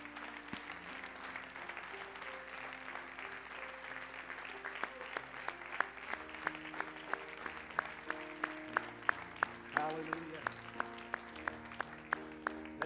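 Steady applause from a church revival audience under quiet instrumental music, with sharp claps standing out in a regular pattern.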